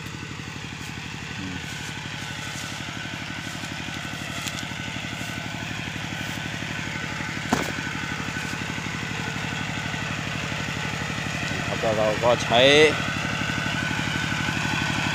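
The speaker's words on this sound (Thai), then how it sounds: "รถไถเดินตามนะครับคูบูต้ารุ่นเก่าเลยครับ" An old Kubota walking tractor engine idles nearby beside a water delivery hose, a steady rapid chugging throb, with someone talking over it.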